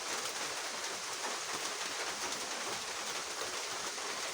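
Steady rain falls in a village, a dense, even hiss of drops on surfaces with no breaks, moderately loud and continuous throughout.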